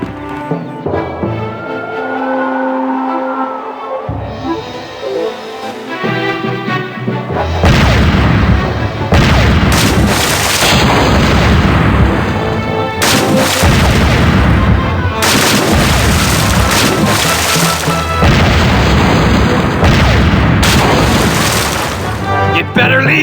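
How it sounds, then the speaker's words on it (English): The Pain Giver 2000 cannon fires in The Curse of Monkey Island, sending repeated loud, heavy booms one after another over game sound effects after a quieter opening. "The Pain Giver 2000. That's a powerful cannon."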